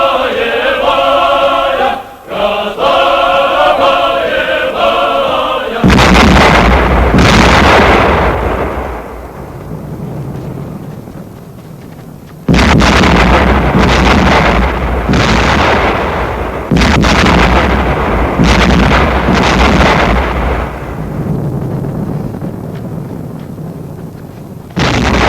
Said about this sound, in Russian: Это в кого же стреляют?